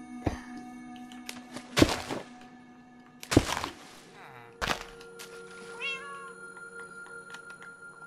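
Cats in Minecraft meow several times at irregular intervals, clear and close, with sharp thunking impacts between the calls and faint game ambience underneath.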